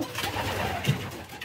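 Adult racing pigeons coo softly nearby inside a loft, a low throaty warble repeating in a short burst indoors.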